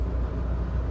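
A Mahindra Bolero drives at speed, a steady low engine drone and road rumble filling the cabin with no voices over it.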